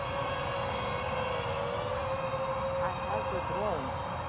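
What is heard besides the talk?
DJI FPV drone flying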